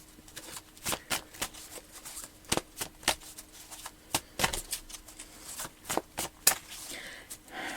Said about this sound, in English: I wonder if each card shuffle counts as a step.